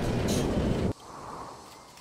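A train in the management sim Transport Fever rumbles loudly and steadily for about a second, then cuts to a quieter, lighter background of moving traffic.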